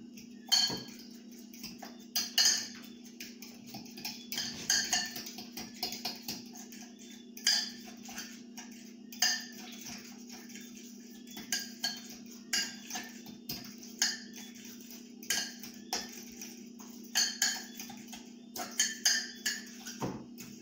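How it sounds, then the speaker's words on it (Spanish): A whisk scrapes and clinks in a bowl of Greek yogurt dessert ingredients, quick metallic ticks in irregular bursts over a steady low hum, close and fairly quiet. "Empezamos a batir para que todos los ingredientes se homogeneen"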